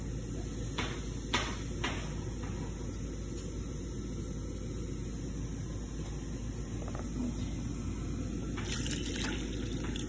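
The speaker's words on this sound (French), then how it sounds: "Je mets de l'eau froide, peu importe. Donc là, j'ai rajouté une tasse d'eau." Cold water is poured from a cup into a simmering tilapia fish soup, a steady, continuous wash of liquid with a low background rumble and no voices.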